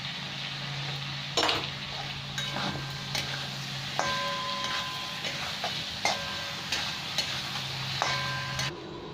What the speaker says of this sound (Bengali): এবার আমি ভেজে রাখা আলুগুলো দিয়ে দিলাম। এবার এই আলু দিয়ে একটু কষে নেবো